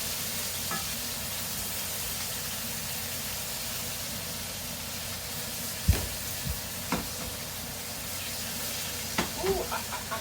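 Sausages and meatballs fry in a skillet with a steady, broad sizzle throughout, broken by a few soft knocks and scrapes as the pieces are pushed around the pan.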